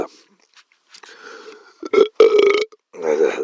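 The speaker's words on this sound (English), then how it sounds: "I can only belch in response to." A person lets out a drawn-out belch in several voiced, croaking bursts, close and fairly loud, separated by brief silences.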